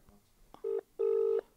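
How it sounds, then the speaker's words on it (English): Telephone keypad tones from a call being placed back, two steady tones in a row, the first short and the second longer, clear and close with no talk over them. "I'm going to quickly phone him back and hit 1."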